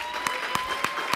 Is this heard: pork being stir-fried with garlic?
no